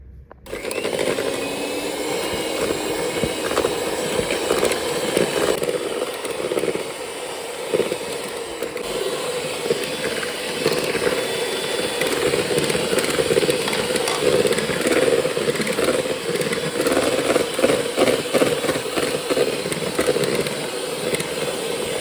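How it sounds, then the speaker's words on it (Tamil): Eggs and sugar beaten with an electric mixer for ribbon cake batter, a loud steady motor whine running unbroken and close throughout, with no talk. "இது நான் கொஞ்சம் கொஞ்சமாக போட்டு இப்போ நான் பீட் பண்ண போகிறேன்."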